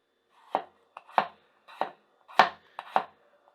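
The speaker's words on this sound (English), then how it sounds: "The knife still cuts very smoothly" A gyuto kitchen knife, a little dull but still cutting smoothly, chops food on a cutting board in six distinct close thuds at an uneven, unhurried pace, with quiet gaps between and no talking.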